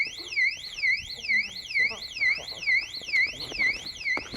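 An electronic alarm goes off inside an abandoned hospital, a loud warbling tone sweeping up and down in steady repeating cycles, with faint movement and voices underneath.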